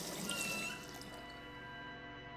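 Water runs from a turned-on tap in the video game Rue Valley: a faint, steady trickle with soft dripping, heard alone and fading slightly after the first moment.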